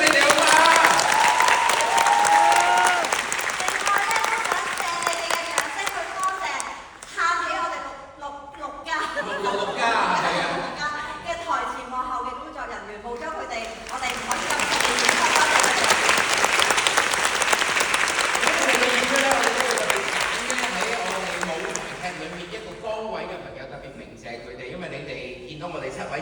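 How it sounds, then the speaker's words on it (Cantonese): Theatre audience applauding warmly at a stage play's curtain call, a dense, sustained clapping that swells, dips briefly, then surges again with scattered cheers and voices mixed in. "俾多次熱烈嘅掌聲"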